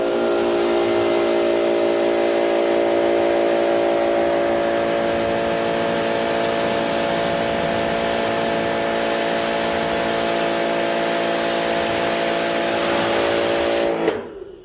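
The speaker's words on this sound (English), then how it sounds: "now I am going to pre-rinse it off" A pressure washer rinses down a car before foaming: a loud, steady hiss of spray over a droning pump hum that holds for about fourteen seconds, then cuts off abruptly.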